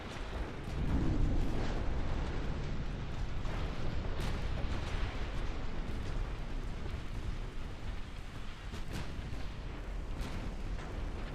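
A battleship hit by torpedoes in Ultimate Admiral Dreadnoughts, with a deep booming explosion swelling early and then a long, dense rumble of blasts and roaring fire that holds at a steady loud level.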